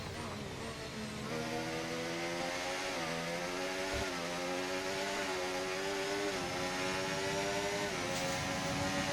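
Formula 1 race car engine at the Brazil or Qatar Grand Prix, a loud high-pitched whine climbing in pitch and dropping back at each upshift, several gear changes in a row, steady and close throughout.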